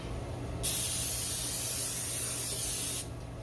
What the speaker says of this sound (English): always remember to spray your grill.